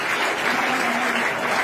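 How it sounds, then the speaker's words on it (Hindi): Students clap together in a school classroom during a traffic warden road-safety awareness session, a dense steady burst of applause held for under two seconds with no talk over it. "इनके लिए भी तालियां।"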